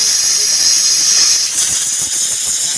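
A pressure cooker vents steam in a loud, continuous high hiss close by, shifting pitch slightly partway through as the release continues.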